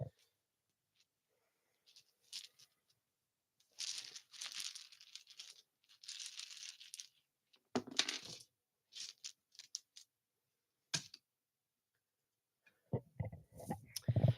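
Tarot dice rolled for an Aquarius reading, clattering and tumbling in several short bursts of clicks and rattles separated by quiet gaps, close and fairly soft, with some handling noise and no speech.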